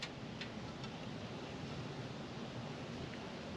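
Fluid drains from the differential of a supercharged (ProCharger) Pontiac GTO, warmed up from driving: a faint, steady, even hiss of liquid pouring out, continuous and unbroken with no talking.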